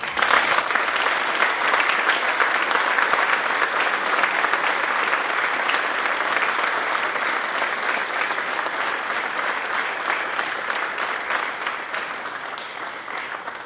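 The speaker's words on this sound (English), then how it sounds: "One last round of applause for all of our winners." An audience at a varsity athletic awards night applauds its winners, producing a long, dense, sustained wash of clapping that holds steady and then slowly thins and fades toward the end.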